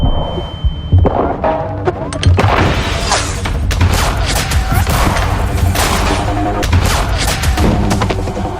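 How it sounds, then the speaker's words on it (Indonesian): Gunfire from a film crackles in loud, repeated bursts and booms against a busy soundtrack, with a voice speaking over parts of it. "dari balik bangunan, beberapa letusan tembakan terdengar"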